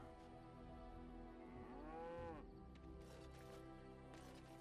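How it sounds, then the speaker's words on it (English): An ox in the Dragon Age Origins video game gives a low, drawn-out moo that rises and falls, heard faintly under steady game music and ambience. "By goodness, he is mooing."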